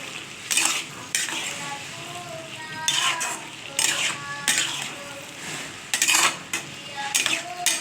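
Potatoes go into a pan with cooked ridge gourd and are stirred with a metal spoon. Repeated sharp scrapes and clinks sound against a bubbling sizzle, close and loud, in an uneven rhythm.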